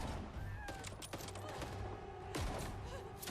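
Gunfire from a firing line in a video game demo, heard faint and distant: scattered sharp shots and a few heavier thuds in irregular bursts under a low game soundscape.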